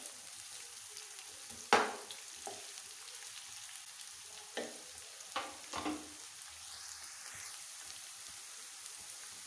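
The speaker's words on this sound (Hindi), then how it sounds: "प्याज को हम थोड़ा थोड़ा ब्राउन कर लेते हैं।" Faint sizzling of onions browning in a pan, with a few sharp clatters and stirring noises breaking through the steady hiss.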